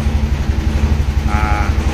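A motorcycle engine runs after starting, a loud, steady close-up idle with a throbbing low pulse, and a short whining tone rises briefly near the end.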